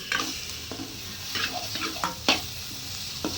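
Chopped onions sautéing in a pan for a tempered fresh-curd dish: a soft constant sizzle broken by repeated scraping and stirring clinks of a spoon against the pan, close by, with no talking.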